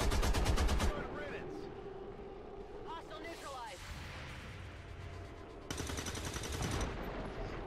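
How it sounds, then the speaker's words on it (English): Overwatch gunshots in the XCOM Long War video game, bursts of rapid rattling fire at the start and again near the end, loud and dense, with game effects and sweeping tones between. "Pretty good Overwatch shots though."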